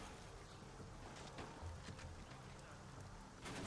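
Steady rain in a video game hisses as a constant broadband wash, with faint scattered drops and low rumbling underneath, and no voices.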